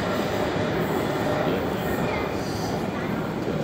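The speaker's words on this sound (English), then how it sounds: "The train's going fast" A London train moving fast, giving a steady loud rumble with rushing noise and faint wheel squeal throughout, heard from inside the carriage with no clear talk.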